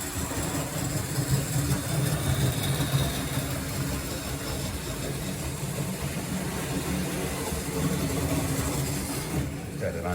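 A black Lionel GS-4 model steam locomotive runs on freight duty, giving a steady close mechanical whir and rumble that continues unbroken throughout, with a voice talking over it.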